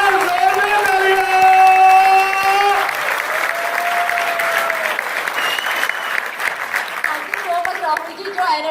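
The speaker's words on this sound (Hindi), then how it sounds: "एक बार जोरदार तालियां।" An auditorium audience at a Modicare business seminar in Delhi breaks into loud, sustained applause with cheering, the clapping steady throughout while a tonal voice or music rings over it.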